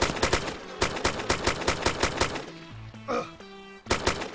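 Sharp bursts of video game gunshots in DayZ, a rapid string of close cracks in quick succession, followed by a brief tonal in-game sound and then another shot near the end.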